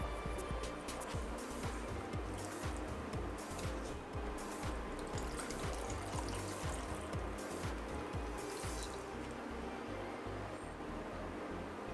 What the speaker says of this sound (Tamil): இப்போ நனைய வச்சுருக்க புளியை கொஞ்சம் தண்ணி விட்டு கரைச்சி சேர்த்துக்கலாம்